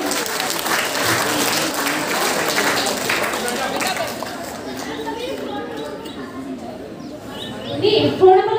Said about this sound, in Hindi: ताली बजा भाई इस बच्चे के लिए।